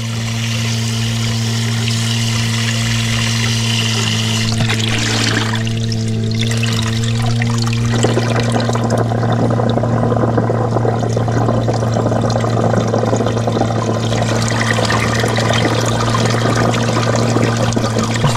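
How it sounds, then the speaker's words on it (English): Muddy, silty water flushes out of a spring pipe, a steady rushing gush that swells louder partway through, with a low constant hum running underneath. "Feel that muddy water coming out?"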